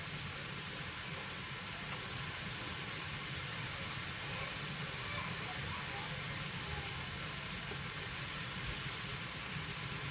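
Cauliflower rice dries in a hot pan, giving a steady, faint hiss and soft sizzle throughout with no clear breaks.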